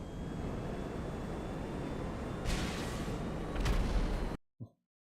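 An explosive barrage in GTA Online: a steady low roar of distant blasts and rumble, swelling into two heavier bursts before cutting to near silence, with a faint thump at the end.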